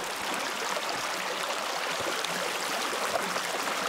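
A woodland brook flowing nearby, a steady broadband wash of babbling water with faint gurgles, continuous and even for the whole stretch.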